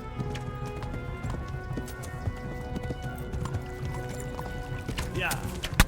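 Hooves of a horse galloping in Kingdom Come Deliverance drum in a steady, fast clip-clop over continuous game noise, with a person talking excitedly throughout.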